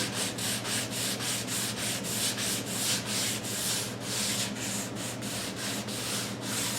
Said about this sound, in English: So I'm using a folded piece of sandpaper. To touch anything up that I see.